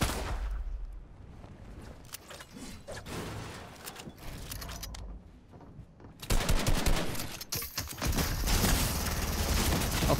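Shotgun blasts in Fortnite crack out as repeated broadband gunfire bursts, quieter and sparser at first, then a dense, loud stretch of rapid shots in the final seconds.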